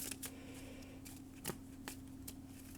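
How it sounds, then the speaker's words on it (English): Quiet, close riffling bursts of a card deck being shuffled, several quick flutters spaced apart over a low steady hum. "Let's go ahead and shuffle it up."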